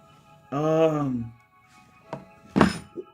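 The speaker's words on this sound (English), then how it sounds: "Oh, the knife fell." A kitchen knife drops onto a floor and lands with a couple of short, sharp knocks near the end of the clip, after a burst of vocal sound.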